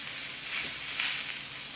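Shell steak searing in a hot pan, with a steady close hiss and sizzle that swells briefly twice, and no voices.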